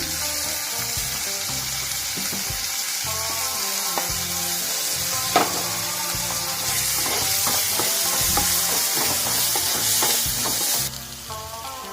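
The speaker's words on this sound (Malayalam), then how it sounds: "ഇനി ഇതിലോട്ട് തക്കാളി കട്ട് ചെയ്ത് ചേർത്തെടുക്കണം." Chopped tomatoes fry in a pan under a constant loud sizzle, with soft scraping and clinking as they are stirred; no talking.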